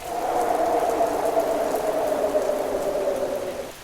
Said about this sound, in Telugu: భయంకరమైన ఉరుములతో మెరుపులతో ధారాపాతంగా వర్షం కురుస్తుంది.